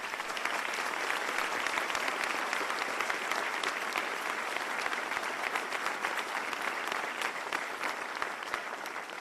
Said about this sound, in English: I would ask you to give them a round of applause